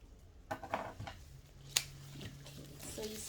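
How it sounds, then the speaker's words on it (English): Scissors snip fresh flower stems while a small jar arrangement is made, a few quiet close clicks and cuts, with a soft voice speaking faintly in the background. "I'm using these scissors."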